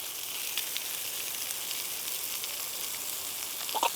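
Chorizo sizzles in a pan with simmering liquid, a steady close frying hiss throughout with a few faint clinks near the end, no talking.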